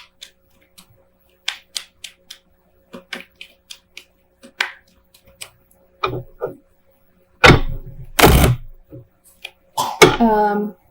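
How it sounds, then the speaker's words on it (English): Tarot cards shuffled by hand close up: scattered light taps and snaps build into two or three louder, rustling riffle bursts near the end, with no one speaking. "So let me just shuffle here and we'll pull a few clarifying cards."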